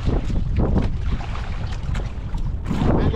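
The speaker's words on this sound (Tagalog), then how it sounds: "Yun ay isang bangka na yun nagpatabi oh" A fishing boat's engine rumbles close by amid gusting wind buffeting the microphone and splashing water, a loud churning roar throughout.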